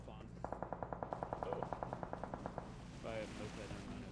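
Gunfire in the mobile battle royale game PUBG Mobile Lite, a rapid, evenly spaced automatic burst of about twenty shots, followed by a short pause and then more firing, with players talking.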